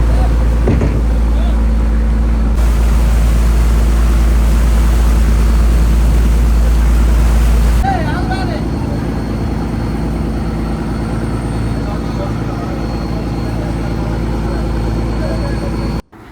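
A deep-sea fishing boat out of Kollam runs fast at sea, its engine a loud, unbroken droning roar that carries on steadily as a voice speaks over it.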